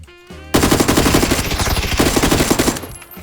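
Rapid automatic gunfire from the PUBG battle royale game, loud and close, bursting in after a brief quieter lead-in and continuing as a dense, steady rattle of shots for about three seconds before easing off.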